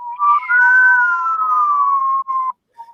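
A person whistles a long, sustained tone imitating a tea kettle, holding and slightly bending the pitch for about two seconds before a short trailing toot, loud and close.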